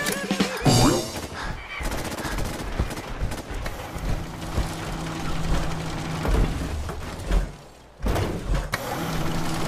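Rapid gunfire rings out in Fallout 4 during an assault aboard the USS Constitution. Dense, loud bursts of shots repeat across the whole stretch, layered with heavy game effects and brief lulls.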